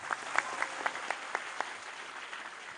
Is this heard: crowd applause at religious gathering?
yes